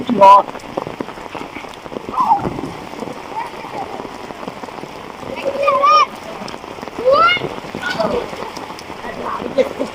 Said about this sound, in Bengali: আষাঢ়ের বৃষ্টি ঘন মেঘাচ্ছন্ন আকাশ